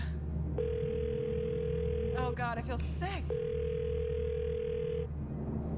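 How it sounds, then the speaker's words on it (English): An outgoing phone call rings out on a Millionaire quiz-show set, two long, even ringback tones at steady loudness, with a voice speaking briefly in the gap between them. "Can we get Dad back on the phone?"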